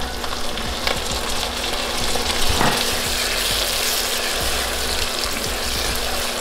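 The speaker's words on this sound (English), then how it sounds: "Cook the tomatoes with all the ingredients." Tomatoes cook with fresh curry leaves and spices for a potato and peas curry, giving a loud, steady sizzle and crackle from the pan throughout, close up, with occasional stirring scrapes and no talking.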